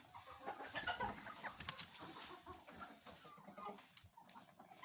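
Several hens cluck continuously close by in a warm coop during freezing winter weather, with soft overlapping calls and rustling throughout and no talking.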